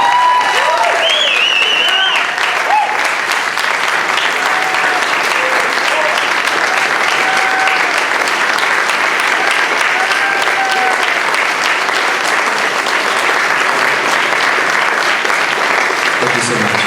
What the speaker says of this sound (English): please join me in a round of applause for the 12 newest second lieutenants in the United States Army